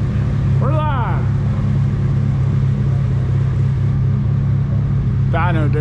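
A turbocharged Honda D16Y8 engine in an EK coupe drones in a steady low roar on a dyno, with short bursts of voices near the start and end.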